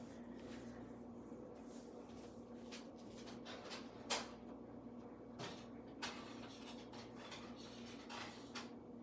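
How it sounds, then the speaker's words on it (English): Noodles being stirred in a pot, with steady scraping and rubbing of a utensil against the metal and a few sharper knocks, moderately close and alone over a low background hum. "Yeah, I gotta stir my noodles"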